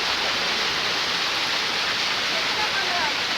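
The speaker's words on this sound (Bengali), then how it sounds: "এটা উপর থেকে জল পড়ছে দেখছো না" Water pours from above at Ghagra waterfall, a steady, dense rushing roar that fills the whole stretch without pause, close and loud.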